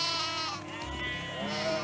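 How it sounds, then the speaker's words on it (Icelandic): Sheep bleating on a farm: long, wavering nasal bleats, close and fairly loud, with a second bleat rising toward the end over a faint low rumble. "kindurnar ætla út á veg"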